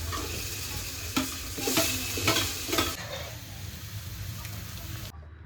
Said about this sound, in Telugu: అండ్ అప్పటిలోపు మనము పచ్చిమిర్చి, ఆనియన్ అండ్ పుదీనా, కొత్తిమీర అండ్ టమాటో ఇవన్నీ కూడా మనం వేయించుకుందాం.